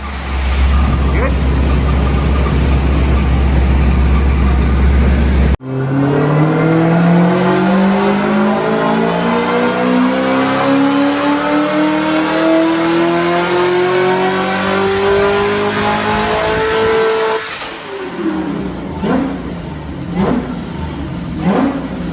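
A Nissan S15 drift car revs hard with a loud, rising engine note that climbs steadily for about twelve seconds after an abrupt start, then drops off into shorter blips, with people talking over it.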